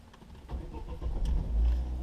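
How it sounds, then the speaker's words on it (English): A 2007 Vauxhall Zafira car engine starting up, beginning as a quiet crank that builds into a firmer low rumble over about two seconds, close by with no talking. "I'll turn the ignition on the car, and we'll start it up"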